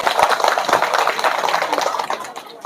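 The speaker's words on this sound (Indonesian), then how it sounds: "Tepuk tangan dulu." An audience at an Indonesian public gathering claps in a loud, dense burst of many hands, irregular and close, tapering off after about two seconds.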